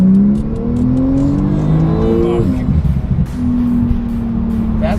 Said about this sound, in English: I feel like anyone can get in here and drive this well, like drive it fast.